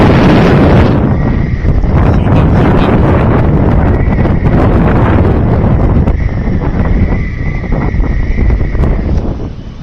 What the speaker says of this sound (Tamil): காற்று கொஞ்சம் ஓவராக இருக்கும்,